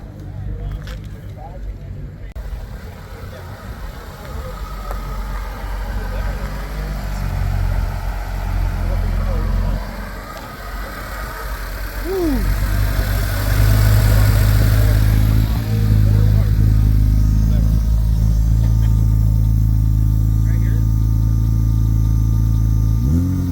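Opel car engine revving at an import and performance car show, a low steady engine note that swells and grows louder partway through, with people talking around it in an outdoor crowd.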